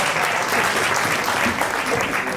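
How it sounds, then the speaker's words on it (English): Audience applause during a panel discussion, a dense, even burst of clapping from a crowd lasting a couple of seconds, loud and continuous. "please clap"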